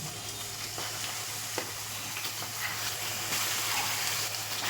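Chicken pieces frying in a home kitchen pan, with a steady soft sizzle and faint stirring scrapes running through the short stretch with no talking.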